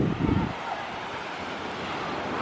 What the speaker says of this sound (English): The water is beautiful, but there's some pretty big waves. Look at the waves. They're pretty big.